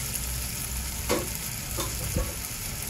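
Turmeric, red chilli and cumin powder frying with tomato in a pan for a fresh cashew bhaji, giving a soft, steady sizzle with a few faint stirring scrapes.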